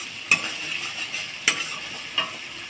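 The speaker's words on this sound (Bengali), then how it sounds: "এবার মশলাটাকে ভালো করে কষতে হবে" Spice paste being stirred and sautéed in a pan: a constant sizzle broken by three sharp spatula scrapes and clacks spaced about a second apart, close and clear, no talking.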